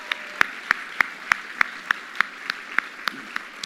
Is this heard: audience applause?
yes